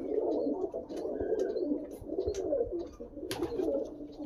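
A mundi sada pigeon at a Bagnan, West Bengal loft coos in low, continuous murmuring bursts close by, with faint chirps from other birds scattered over the top and no one talking.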